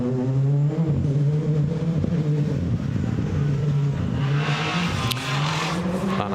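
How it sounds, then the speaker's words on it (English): A Subaru Legacy RS rally car pulls away from the start line of a forest rally stage. Its engine drones loudly and steadily, then climbs in pitch as it accelerates. "Steve Ward with Harrison Holroyd have left the start line in the Camel and Clarion back Subaru Legacy RS"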